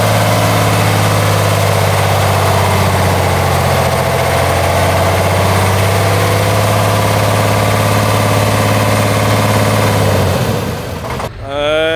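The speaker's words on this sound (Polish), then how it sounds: "Ten silnik brzmi, jakby już tam był cały ogień." A heavy, old off-road truck engine, from a Praga, Ural or Unimog, drones loud and close at a steady pitch, then stalls and sputters near the end.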